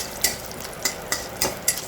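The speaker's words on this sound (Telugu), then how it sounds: "సో పోపు వేగుతూ ఉంటుంది." Tempering of spices frying in hot oil for Andhra cabbage dal, a close steady sizzle punctuated by five sharp, evenly spaced pops and crackles.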